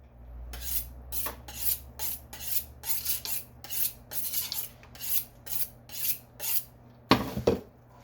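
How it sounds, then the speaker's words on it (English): A kitchen knife is sharpened with about a dozen rhythmic rasping strokes, each a short scrape followed by a brief pause, close and clear, ending with a couple of sharper metallic scrapes. "Sharpen my knife."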